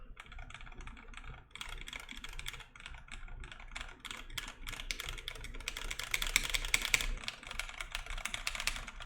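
Continuous typing on an OTD 360 Corsa mechanical keyboard fitted with PBT keycaps, a steady close stream of soft clacks that grows slightly busier and louder toward the end.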